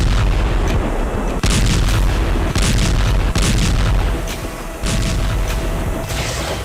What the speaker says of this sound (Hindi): वहां अचानक शुरू हो गए धमाके